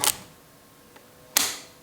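Manual film camera's film advance lever being wound, two crisp mechanical ratcheting clicks about a second apart with a faint tick between them, close and alone in a quiet room.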